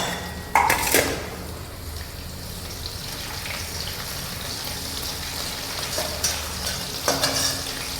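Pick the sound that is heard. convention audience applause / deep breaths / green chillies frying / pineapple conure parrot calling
green chillies frying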